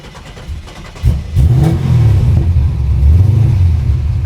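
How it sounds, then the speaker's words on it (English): A 1969 Chevrolet Camaro restomod with a built LS engine cranks briefly, fires up with a sharp burst and settles into a loud, lumpy idle with rising and falling revs, close and without voices. "let's get this thing started up because I know a lot of people want to hear this built LS motor"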